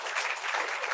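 An audience at a Friday church meeting claps loudly and steadily, a dense wash of applause that carries on without pause and without voices.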